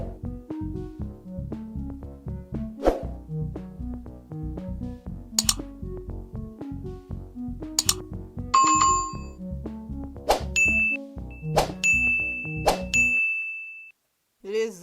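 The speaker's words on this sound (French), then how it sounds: "activer la cloche de notification" A notification bell rings out as several bright, sharp dings at irregular intervals over a rhythmic tonal backing, with a sustained chime near the end before a brief silence.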